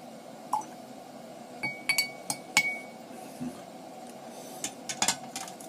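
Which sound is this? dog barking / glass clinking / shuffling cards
glass clinking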